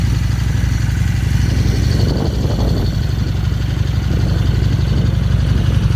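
A 2000 Excelsior Henderson motorcycle engine just after a cold start, with a new fuel pump and battery: a loud, close, steady idle with a continuous low rumble and mechanical clatter throughout.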